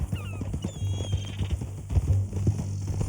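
Horse hooves clip-clopping at a steady walking rhythm in Red Dead Redemption 2, close and clear over a low rumbling ambient bed, with a faint whinny-like tone mixed in.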